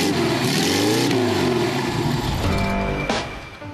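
Supercharged Volkswagen engine in a VW Beutler convertible accelerating, a loud rising rev that climbs through gears with a brief dip and a shift near the end, no talk.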